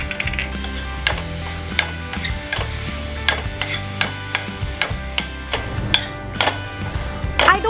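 Red masala is stirred into frying onions along with salt, sugar, ginger and curry leaves, giving a close, steady sizzle broken by repeated sharp clinks and scrapes of a spoon against the pan over a low hum.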